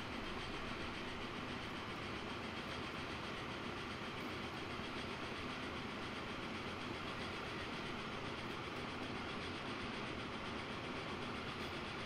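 Trains rolling along rails in Transport Fever 2, a steady broadband rumble of wheels and carriages with a faint rhythmic clatter, continuous and even throughout with no voices.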